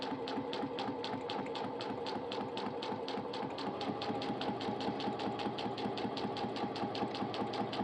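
A domestic sewing machine stitches along at an even pace, its needle producing a rapid, regular ticking chatter over a low motor hum, close and continuous throughout with no speech.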